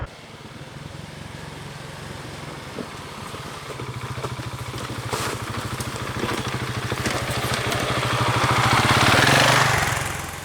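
A Husqvarna 701 Enduro motorcycle labors up a knee-high, nearly vertical step, its single-cylinder engine chugging steadily close by and rising in loudness toward the end as it climbs.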